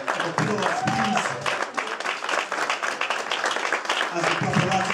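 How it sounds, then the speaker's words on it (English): Audience applause for community activist award winners at an awards ceremony, dense clapping filling the whole stretch under ongoing talk and crowd noise. "please give the round of applause"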